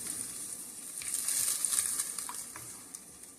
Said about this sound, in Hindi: योगर्ट का पेस्ट डाल के इसको अच्छी तरह से मिक्स करना है।